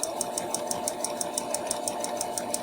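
A sewing machine stitches fabric at a steady fast pace, its needle producing a rapid even clatter with a constant motor whine, close and alone.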